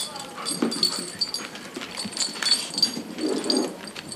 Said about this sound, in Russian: Добродушный лабрадор Кая и Оксана Забродская заботятся друг о друге уже 4 месяца